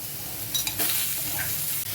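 Mixed vegetables for dudh shukto, such as potato, carrot, squash and drumsticks, fry in a pan with salt, giving a constant close sizzle with a couple of stirring scrapes.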